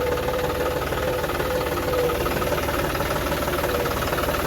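A tractor runs steadily as it is driven over a farm field, a continuous low, throbbing rumble with no pauses.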